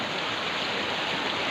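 Near a river below a waterfall, water rushes in a steady, loud hiss of flowing current with no other sounds on top.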